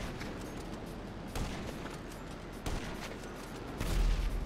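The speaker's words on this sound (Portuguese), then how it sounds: "Nossa, tiroteio aqui." Gunfire in a video game dogfight with P-51 fighter planes: a steady crackling barrage of shots with louder bursts near 1.4, 2.7 and 4 seconds, no talk over it.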